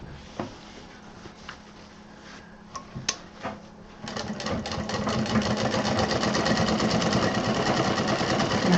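Sewing machine stitching fabric seams for a DIY waste-material craft, starting with a few faint clicks and handling sounds, then running in a steady, loud, continuous rapid whir for the last several seconds.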